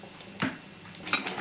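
Peanuts frying in oil in a pan are stirred with a utensil, giving a couple of short metallic scrapes and clinks against the pan, close and fairly quiet, with no voices.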